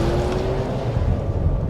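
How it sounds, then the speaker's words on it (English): Loud, steady engine roar from a race car on a dirt track, with a dense low rumble and a brief rising whine near the start; no talking. "Cars on that dirt track sound like nothing else."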